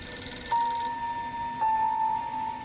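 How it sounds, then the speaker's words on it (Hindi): An indoor telephone rings twice in a dramatized crime drama scene, two clear electronic bell tones close by with a short gap between them and no voices. "फोन उठा।"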